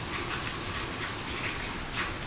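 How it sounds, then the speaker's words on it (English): Steady rain falls outdoors in the woods, a continuous broadband hiss of drops with no clear individual hits, even and moderately loud throughout with no voices. "Got a lot of rain here in the 100 Acre Woods, which always makes me feel good. I like the sound of rain."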